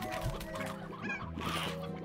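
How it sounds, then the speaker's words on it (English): Hens in the Slime Rancher video game cluck in a busy, close layer of short clucks and squawks, with continuous game background sound underneath. "We insert hens."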